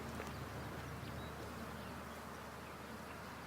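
Honey bees at an open hive drawing new comb give a steady, soft, close buzzing hum with no voices.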